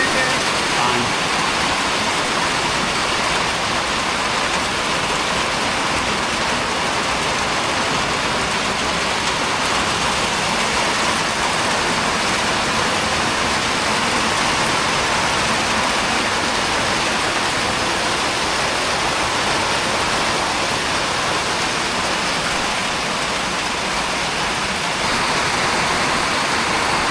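Steady rain falls near water catchment tanks beside a small cabin, a dense, even hiss that holds unbroken and fairly loud for the whole stretch, with no voices over it.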